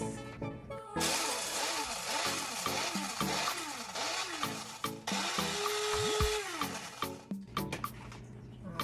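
An electric grinder whirs loudly through papaya seeds in a kitchen, with a buzzing motor that pulses, cuts off briefly and restarts, then winds down near the end.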